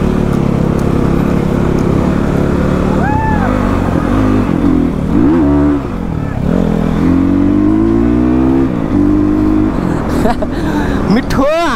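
Motorcycles gathered at a group meetup ride in Lamjung rev loudly and continuously close up, engine pitch sweeping up and down through repeated throttle blips, with people talking underneath.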